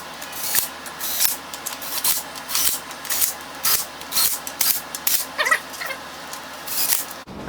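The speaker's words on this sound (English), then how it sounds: "just to snug down my bolts so I don't have a bunch of threads to go through manually with my ratchet" Ratchet snugging down valve cover bolts on a Mazda Miata during a valve cover gasket replacement, a close, rapid clicking buzz in repeated short bursts.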